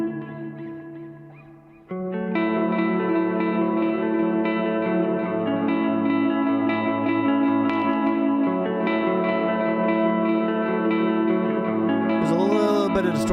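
Electric guitar played through a pedalboard, the Iridium clean channel, with ambient reverb and slight distortion: a brief quiet phrase, then sustained ringing chords with echoing tails and a short pitch-bent flourish at the end.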